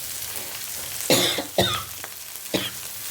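Vegetables sautéing in a pan for a South Indian radish sambar, with a soft sizzle and several distinct stirring scrapes and clanks of a spoon against the pan.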